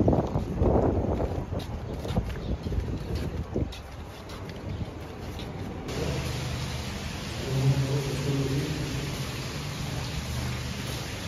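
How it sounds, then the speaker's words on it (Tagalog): Steady wind buffeting the microphone outdoors at Corniche Beach, a continuous rushing roar with gusts, no voices. "Ay, mahangin."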